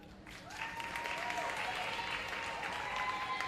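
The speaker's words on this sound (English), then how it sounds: "keep that applause going again for Ashley Stewart of the Godfrey Stewart Performing Arts Society" Applause at a performing arts awards ceremony for a member of a performing arts society: a broad, sustained crowd clapping that swells in after a brief pause and continues steadily, with a voice faintly audible over it.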